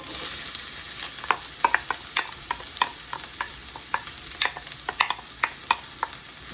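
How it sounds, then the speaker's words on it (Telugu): Onions and green chillies fry in oil with a soft, steady sizzle, punctuated by frequent sharp crackles and stirring clicks. "లోకి కోసి పెట్టుకున్న ఆనియన్స్ అండ్ గ్రీన్ చిల్లీస్ వేసేస్తున్నాను"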